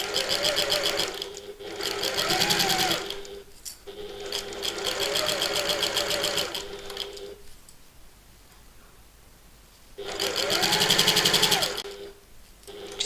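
Sewing machine stitching bag fabric and lining, running in three steady rapid bursts with a quiet pause between the second and third, close and loud.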